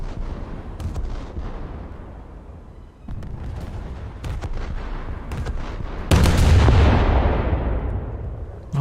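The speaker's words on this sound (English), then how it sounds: "I hear my gunners opening up on something" Naval guns on a warship in a sea-battle game blast at a scout plane in a dense, continuous barrage of booming shots, with a louder, heavier roll of fire near the end.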